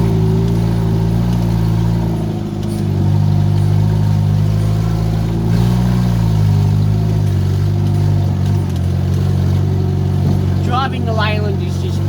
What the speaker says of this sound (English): Driving the Leyland is just really fun.